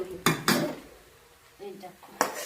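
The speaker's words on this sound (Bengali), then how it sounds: "এখন ভালো করে নেড়ে শাকটা ভেজে নেব" Leafy greens fry in a pan while a utensil stirs them, making several sharp metallic clanks and scrapes close by with a faint sizzle underneath.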